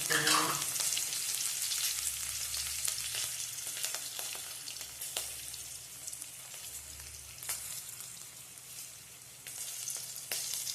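Steady, loud sizzling of a tempering of dried chilli, red chilli and bay leaf frying in hot oil, a continuous crackling hiss with scattered pops throughout, no voices.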